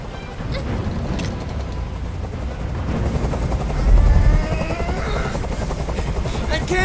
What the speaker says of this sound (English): I can't stand that noise anymore! Tell that helicopter...